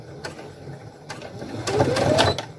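A Brother Innov-is F420 computerized sewing machine stitching, a close mechanical whirr with rapid ticking that rises in the second half, ending with a brief stop-and-lock stitch.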